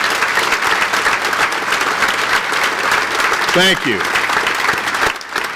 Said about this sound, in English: please stand so we could give you a round of applause